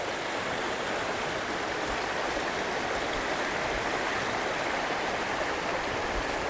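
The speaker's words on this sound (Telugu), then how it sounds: "సో రాళ్ళలోంచి జారి ఫ్రెష్ వాటర్ వచ్చేటప్పటికి దానివల్ల అంత క్లీన్గా ఉంది" River water rushes over rocks near Srirangapatnam, a constant broad roaring wash that stays loud and steady throughout, with no voices.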